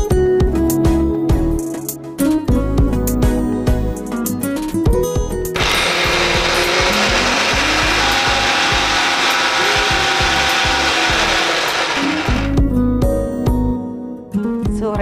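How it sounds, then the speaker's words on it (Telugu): A kitchen mixer grinder runs for about seven seconds, grinding soaked sago and sugar into a paste for rasmalai. It gives a loud, steady whirring roar that starts and stops abruptly, with music playing before and after. "మిక్సీ పెట్టుకొచ్చేసేయండి."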